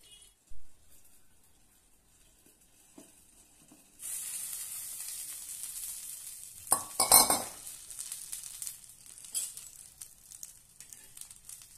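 Brinjal (eggplant) pieces frying in a pan over low gas, a faint quiet start giving way to a steady sizzle with brief clinks and stirring scrapes of a utensil against the pan.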